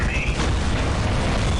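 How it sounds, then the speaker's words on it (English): Explosions in the Dawn of War video game during a one-on-one battle with seismic charges and grenades: a continuous heavy, roaring blast wash with a brief whistling tone at the start, loud and dense throughout. "Huge explosions."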